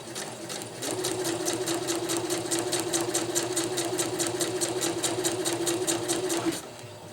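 A Viking sewing machine slowly stitches the ridgeline of a winter tarp through thick layers, its even, rhythmic needle clatter running steadily close by for several seconds.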